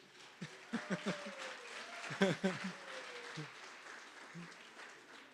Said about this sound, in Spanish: Damos un aplauso al Señor por sus vidas.